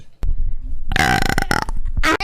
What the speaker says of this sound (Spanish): Y voy a eructarles.